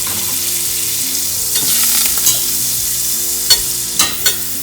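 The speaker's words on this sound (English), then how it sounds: "I got a skillet, add 2 tablespoons of butter, let it melt" Butter melts in a skillet, giving a bright, steady sizzle and hiss up close, with a few sharp spatula taps and scrapes toward the end and no talking.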